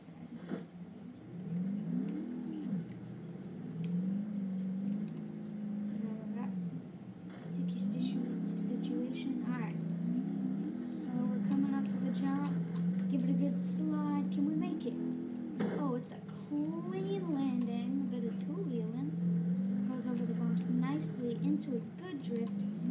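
A rally car engine in BeamNG drives and revs through drifts and bumps, its drone rising and falling steadily throughout while a person commentates over it.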